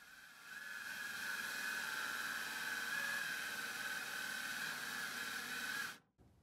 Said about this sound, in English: this attachment that you put on the drill that makes a hole